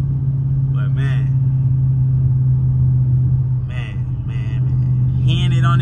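A straight-piped Dodge Challenger R/T with a Hemi V8 idles with a steady, deep exhaust rumble, close and constant, while someone talks over it in short bursts.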